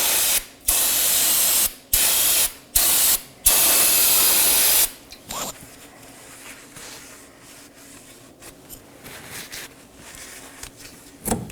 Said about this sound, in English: I'm going to give the knuckle a quick cleaning using some brake cleaner and a clean rag